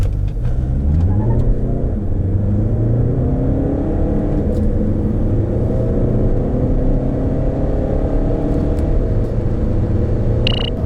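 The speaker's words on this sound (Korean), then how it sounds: "그렇다면 티구안의 발진 가속 성능에 대해서도 한번 알아볼까요?" A 2018 Volkswagen Tiguan 2.0 TDI diesel SUV pulls away hard from a standstill, its engine rumble climbing through gear changes in a steady, loud, close drone that persists throughout with no talking.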